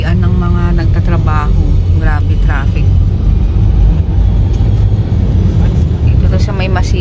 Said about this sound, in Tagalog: Lalo na pag yung oras ng uwian ng mga nagtatrabaho. Grabe traffic.